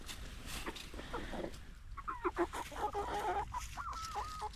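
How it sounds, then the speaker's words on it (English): Silkie and standard breed chickens clucking nearby, a scatter of short soft clucks and murmuring calls over a low background hum, growing busier in the second half. "These are the silkies, and these are my standard breed chickens."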